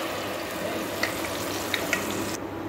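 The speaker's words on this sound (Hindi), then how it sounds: "अब मैं इसमें हरी मिर्ची डाल रही हूँ।" Green chillies sizzle in a frying pan of masala with a little water, a steady close crackling hiss with a few small pops, ending abruptly.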